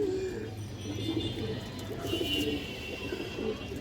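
Large black pigeons of a fighting breed with dark purple-red feet coo steadily in a pigeon loft, the low throaty calls blending with faint chirps from other birds nearby.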